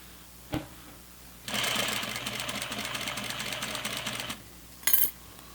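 A sewing machine runs a steady, fast mechanical chatter for about three seconds while stitching the crotch seam of flannel pajama pants, close up, with a soft click before and a short whir after it stops.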